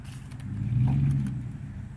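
A tractor engine labors as the machine climbs up onto a trailer, a low rumbling drone swelling louder in the middle then easing back, with faint clatter around it.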